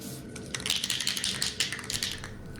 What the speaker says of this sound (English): Now I'll sand this primer with the fine Scotch pad.